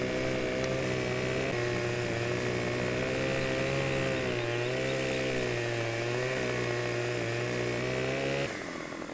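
Chainsaw cutting a tree in the Farming Simulator 17 video game, a loud continuous engine drone with slight pitch shifts throughout, cutting off abruptly at the end.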